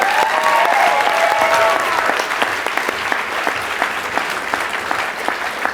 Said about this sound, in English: join me, please, in a round of applause for our fabulous MC tonight